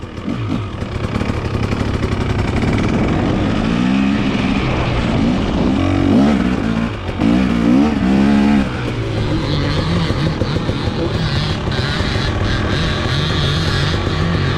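Dirt bike engine, a KTM XCW with stiffer suspension, revving hard in rising and falling bursts during pivot turns on the back wheel, loud and close throughout.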